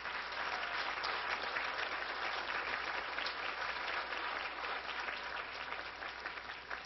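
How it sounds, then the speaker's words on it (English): Audience at an Easwaramma Day 2010 play applauding children, a sustained, even roar of many hands clapping, fairly loud and continuous with no voices on top. "I need a real big applause for them."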